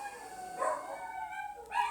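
Dogs indoors give a soft, drawn-out howl with rising whimpering tones, faint and somewhat distant, followed by a short yip toward the end.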